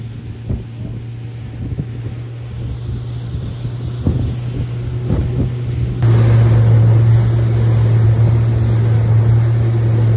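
A boat engine rumbles with a steady low drone amid wind buffeting the microphone, growing louder and more constant as the boat departs and gets underway.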